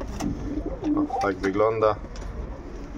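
Soft pigeon coos rise near the middle of the clip, with a brief spoken remark and light background noise around them.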